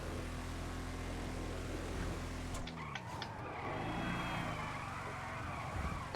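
A Jeep in the video game GTA V (FiveM roleplay server) drives at speed, a loud revving engine that drops off abruptly midway, then tire and road noise with some skidding.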